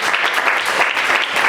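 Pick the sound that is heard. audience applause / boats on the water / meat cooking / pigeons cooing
audience applause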